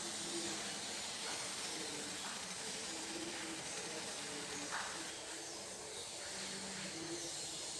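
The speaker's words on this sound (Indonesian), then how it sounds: "Sekarang akan saya blender dulu." An electric blender grinds a spice paste with a little kencur for banana-blossom sayur lodeh, giving a steady, fairly quiet whirring hiss that runs unbroken throughout.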